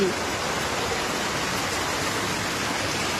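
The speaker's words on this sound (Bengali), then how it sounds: "দেখেছো অবস্থা, ভীষণ বৃষ্টি হচ্ছে, ভীষণ বৃষ্টি।" Heavy monsoon rain pours down in a steady, dense hiss that fills the whole clip evenly, loud and close, with no pauses and no voices heard over it.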